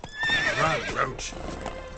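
Geralt's horse Roach in The Witcher 3 neighs loudly and close while galloping hooves clatter underneath in a short burst, with speech in the game.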